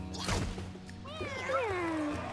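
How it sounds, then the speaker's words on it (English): A cartoon cat in the video game Mewgenics lets out a wavering, drawn-out meow after a short burst of impact-like noise, heard up close over a soft game background. "Did you see that cat?"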